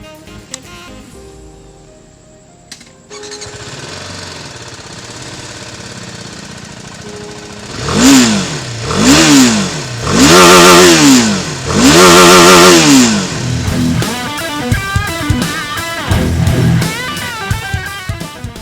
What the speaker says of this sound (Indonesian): Bagaimana suaranya? Khas mesin 1 silinder bukan?